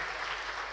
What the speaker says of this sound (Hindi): अब ज़ोरदार ताली बजाकर उनका खैर मकदम कीजिए।